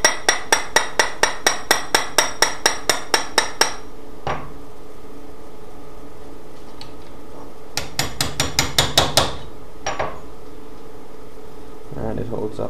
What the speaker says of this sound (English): a bit of hammering brings absolutely nice results